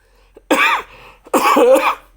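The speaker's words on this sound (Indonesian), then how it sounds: "Nah, ini batuk nih." Two harsh coughs close to the microphone, separated by a short pause, in an otherwise quiet room.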